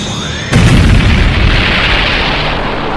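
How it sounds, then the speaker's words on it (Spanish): A huge explosion bursting through tree branches: a sudden loud, deep boom that hits at once and stays as a dense, sustained roar, very loud and close, with no voices. "una enorme explosión atravesó las ramas, las cuales fueron destruidas instantáneamente"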